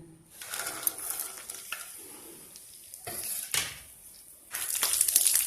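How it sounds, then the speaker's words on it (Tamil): Garlic fries in sesame oil in a pan, a close crackling sizzle broken by bursts of stirring and scraping, swelling to a louder hiss near the end. "இதில் பூண்டை போட்டு கொஞ்சம் ஃப்ரை பண்ணிக்கோங்க."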